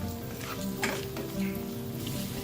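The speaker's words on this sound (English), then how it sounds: "The onions go in first. Let's saute the onions." Onions sautéing in a pan for a curry leaf black pepper chicken masala, with a soft steady sizzle and a few faint stirring scrapes and light clinks of utensils against the pan.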